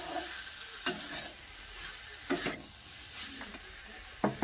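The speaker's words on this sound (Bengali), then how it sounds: "সবজির সঙ্গে মশলাটা ভালো করে মিশিয়ে নিচ্ছি।" A spoon stirs potato, cauliflower and carrot with spices in a pan, giving soft scraping strokes with brief louder clacks against the pan over a faint frying background.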